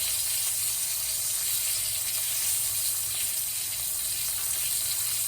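A steak sizzles in hot oil in a pan with the heat just switched off, a loud, dense, continuous hiss and spatter heard alone from start to finish.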